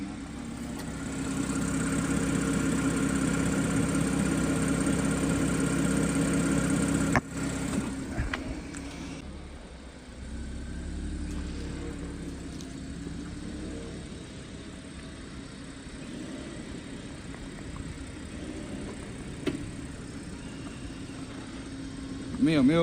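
An Audi A6, about a month old, idles with an abnormal engine noise: a steady low hum with a faint ticking running through it, while people talk nearby.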